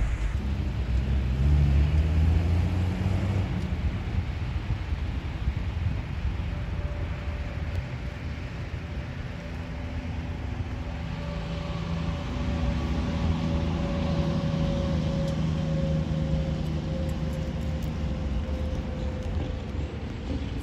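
A 1963 Ford F100 pickup with no power steering rumbles along from inside the cab, a steady low engine drone with gear changes and shifting pitch as it drives around a building, no talking.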